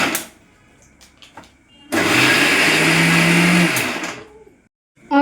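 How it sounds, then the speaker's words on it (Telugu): A kitchen mixer grinder grinds boondi for laddu in one loud, whirring burst of about two seconds, preceded by faint clatter and followed by a quick stop and brief silence. "ఇదైతే మిక్సీ పట్టేసుకుందాం."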